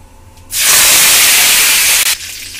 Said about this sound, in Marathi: हे बघा आता मोहरी आपली तडतडलेली आहे. आता कढीपत्ता घालायचा त्यात.